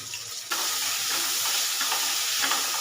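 Chopped tomatoes hitting hot oil in a pan, a bright steady sizzle that jumps up suddenly and keeps crackling loudly and evenly, with no voices.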